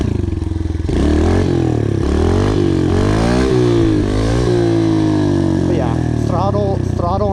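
Small pit bike engine revving hard and continuously during a wheelie, pitch rising and falling with throttle blips, loud and close with a voice speaking over it near the end.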